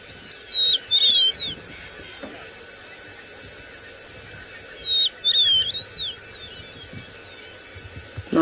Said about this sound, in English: I believe you can just start to hear all the birds waking up